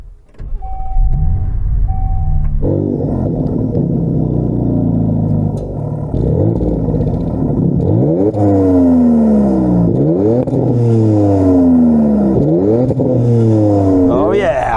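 A car with a Hurricane engine, 8-speed automatic gearbox and selectable all-wheel drive, revving hard and loud, climbing through several gear changes in repeated rising sweeps after an idle and a whirring start.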